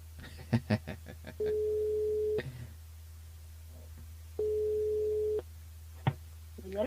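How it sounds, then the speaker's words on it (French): Steady telephone line tone heard while a radio presenter calls back a listener on the station's switchboard number during a live French broadcast, two long even beeps of about a second each separated by a pause, with brief clicks and faint noise between. "enfin je vais la rappeler bien évidemment sur le numéro du standard"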